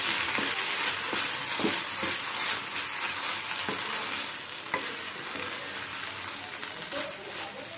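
Semolina (suji) being stirred and dry-roasted in a pan for upma, a steady gritty sizzle with repeated scraping strokes of the spoon, close and even throughout.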